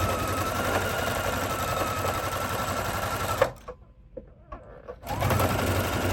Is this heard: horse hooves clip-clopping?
no